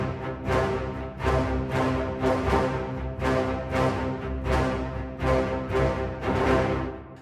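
Big Bang Orchestra Capricorn orchestral ostinato main riff: full ensemble playing a driving, repeated rhythmic figure with strong accented swells roughly every half second, rich and loud, no voices.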